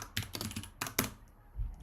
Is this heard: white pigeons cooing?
no